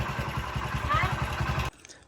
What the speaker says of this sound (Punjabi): ਮੋਟਰਸਾਈਕਲ ਆ ਗਿਆ ਵਾ